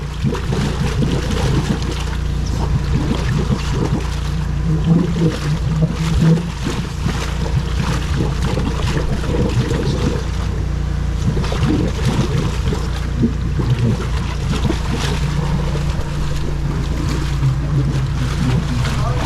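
Continuous rushing, gurgling water flows through a blocked 90mm PVC drain pipe with bends, with irregular splashes and trickles, fairly loud and close, steady for the whole stretch.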